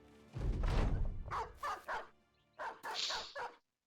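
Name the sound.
dogs barking in a video game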